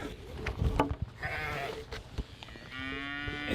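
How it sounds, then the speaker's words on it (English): Sheep in a rural paddock bleat several times nearby, with cattle and calves also in the field, and the calls rise over a soft outdoor background. "We can see some sheep in the paddock here, and there are some cattle too, with some calves afoot."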